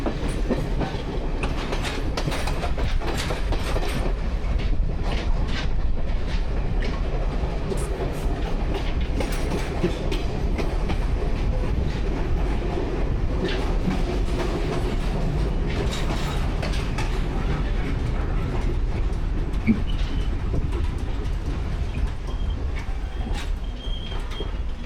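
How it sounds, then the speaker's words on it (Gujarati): A train running along a coastal railway beside the Indian Ocean in Sri Lanka, a loud continuous rumble with rattling carriages and clickety-clack of wheels throughout, no voices. "આ છે શ્રીલંકાની મોસ્ટ સિનિક ટ્રેન જર્ની"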